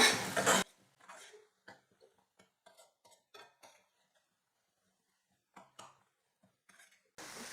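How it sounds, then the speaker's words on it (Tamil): Egg stir-fry is stirred in a pan over low heat, with a series of light, close metallic taps and scrapes of a spoon against the pan, irregular and quiet, separated by brief silences. "இப்போது எல்லாத்தையும் சேர்த்து நல்லா கலந்து கொடுத்துக்கிட்டா மட்டும் போதும்"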